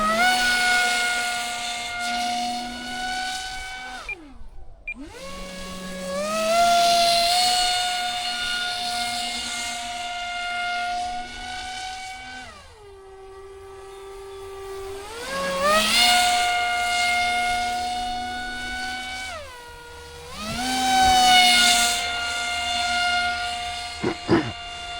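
An F-22 model aircraft's electric motor whines loudly at close range, its pitch repeatedly spooling up to a steady high drone, then dropping away as the throttle is released.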